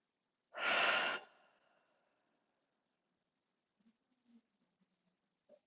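Close and clear, a yoga practitioner takes a single strong breath, pushing the belly out on the inhale and letting it drop on the exhale, followed by a few faint small rustles and mouth sounds.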